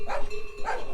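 A dog barks twice, fairly close, with short separated woofs along the Everest Base Camp trek between Dingboche and Pheriche, where yaks pass by.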